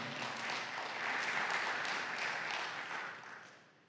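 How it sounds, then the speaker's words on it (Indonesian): A church congregation claps together during a sermon, a dense, even wash of applause from many hands that swells slightly and then tapers away over a few seconds, with no voices over it. "Beri tepuk tangan buat nama Tuhan."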